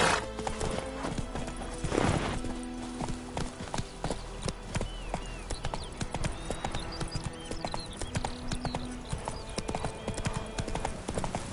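A horse trots in The Witcher 3, its hooves clip-clopping in a steady rhythm with an occasional neigh, set among game music and ambient effects at moderate loudness.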